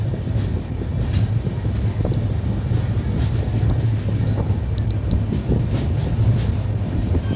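A white Secunderabad–Nagpur Vande Bharat train rushes past close by, a loud steady roar of wheels and rushing air with wind buffeting the microphone throughout.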